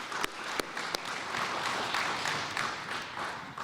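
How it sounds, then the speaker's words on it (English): A crowd at a public safety address keeps up a full, continuous round of applause, with a few crisp claps near the start. "Can we give her a little bit louder round of applause?"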